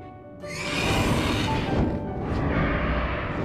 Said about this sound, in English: with the dragon, I combined a leopard, a vulture, and a pig to make the dragon's voice.